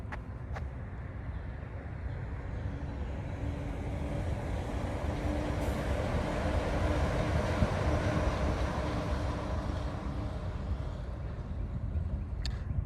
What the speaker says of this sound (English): It'd be really cool if a monorail came.